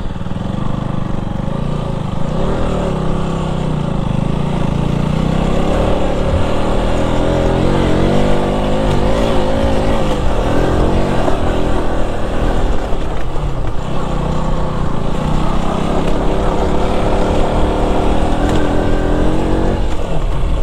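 A Mahindra Bolero jeep grinds up a rough hill road near Maredumilli, its engine droning loud and close, with the pitch rising and falling steadily across the whole stretch.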